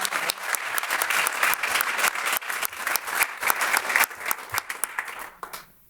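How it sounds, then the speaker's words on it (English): A room at a parks and recreation board meeting gives a volunteer award honoree a round of applause, crisp individual claps close by that thin out and stop abruptly near the end. "We can go ahead and give him a round of applause, though"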